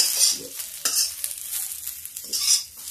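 Vegetables sizzling and frying in a pan for cauliflower and potato, stirred with a utensil in repeated scraping strokes, close and fairly loud with no talking.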